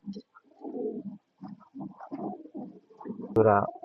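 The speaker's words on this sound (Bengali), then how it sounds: "একদম হোয়াইট কালারের মধ্যে এক জোড়া কিং কবুতর।" A pair of pure white King pigeons cooing softly at close range, a series of low throaty burbling coos in short irregular bursts, ending with a louder brief sound.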